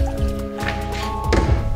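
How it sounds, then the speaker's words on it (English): Alkaline water is poured for making oatmeal, a short liquid splash and trickle heard close up over a steady background hum. "I'm about to make my oatmeal with alkaline water."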